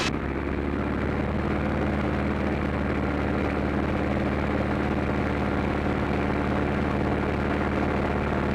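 A Texan helicopter's engine and rotor roar steadily and loudly throughout, a constant dense drone with no pauses and no voices.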